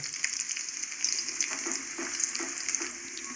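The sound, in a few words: chopped garlic frying in oil for lentil dal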